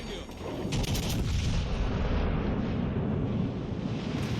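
Battleship Vittorio Veneto firing secondary guns in the naval video game World of Warships Legends, a heavy rumbling barrage of booming shots and rolling blasts that stays loud throughout.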